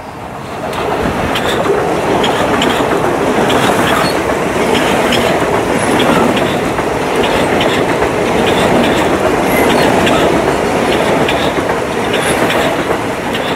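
A Bombardier M7 commuter train rumbles steadily along the rails at Woodside station, with a continuous roar and faint rhythmic clatter, close and loud throughout.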